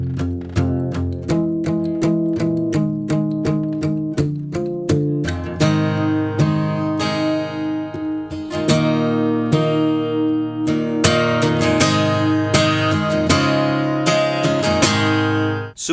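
Acoustic guitar strums the chorus of a song, steady rhythmic chords played close and clear with no voice over it.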